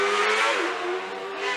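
A hill climb race car accelerates hard at Shelsley Walsh, its rear wing rocking, giving a sustained rising engine roar heard at moderate distance for a brief moment.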